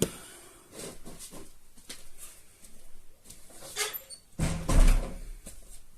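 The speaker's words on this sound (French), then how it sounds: "Je ferme la porte parce que mon chat" Indoors, a door is pushed shut with a short, fairly loud thud near the end, after a few softer knocks and rustles in a quiet room.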